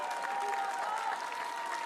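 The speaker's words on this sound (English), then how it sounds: "met uw applaus, dames en heren." Faint, distant crowd applause at a para-cycling road race ceremony, a soft continuous patter of clapping under an announcer's voice.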